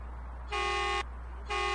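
Two short blasts of a Scania truck air horn, each about half a second, over a low steady engine idle.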